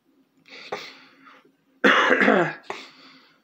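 A sick person coughing and clearing the throat, a short muffled cough followed by a louder, harsher burst and a trailing hack, close and alone.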